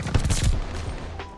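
A BAR automatic rifle fires in a video game: a quick burst of several close, punchy shots over the first half second, then a fading tail with faint game ambience.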